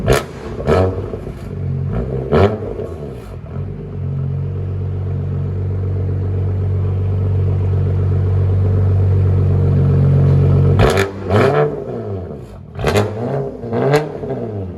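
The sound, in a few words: BMW M3 3.0 twin turbo inline-six engine idling, heard inside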